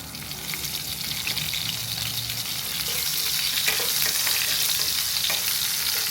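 Green chilies dropped into hot oil with cumin and mustard seeds give a dense, steady crackling sizzle that swells louder partway through, close and continuous with faint popping.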